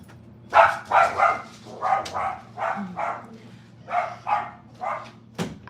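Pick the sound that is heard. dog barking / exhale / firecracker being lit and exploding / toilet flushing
dog barking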